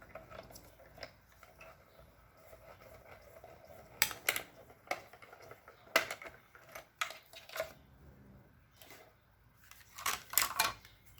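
A manual die-cutting machine cranks a paper card and metal die sandwiched between plates. Quiet, close mechanical clicks and grinding crunches come in uneven bursts, with sharper ratcheting snaps clustered near the middle and the end.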